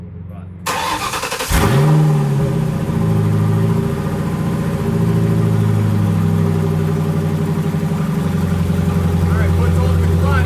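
A car with a newly installed manual transmission cranks briefly and starts, then settles into a close, loud idle with a few light revs and changes in engine pitch, and a voice talks over it.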